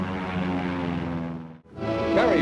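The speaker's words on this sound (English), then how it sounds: "Meanwhile, overhead, Air Force and Marine Corps planes support the ground troops." Air Force and Marine Corps propeller planes flying overhead in the Korean War, a steady droning engine hum that briefly dips and then swells back louder as an aircraft passes.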